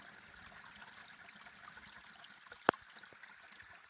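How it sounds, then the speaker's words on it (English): Spring water trickling straight out of the ground through a metal channel on a mountain trail, a faint steady flow with one sharp click partway through. "this is a spring right out of the ground. There's no snow and somebody's put in this nice metal channel."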